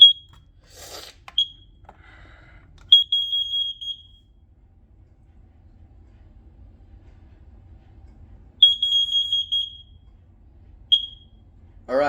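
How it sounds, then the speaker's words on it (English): Two carbon monoxide alarms are set off during a test, giving short piercing high-pitched beeps in spaced bursts with silence between, loud and close. "let's go ahead and test these 2 carbon monoxide alarms."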